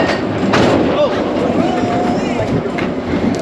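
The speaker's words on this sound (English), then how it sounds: "Easy train ride." Steady rumbling of a ride train at Disney's Animal Kingdom with rhythmic clatter on the rails, continuous and fairly loud throughout, with a faint squeal in the middle.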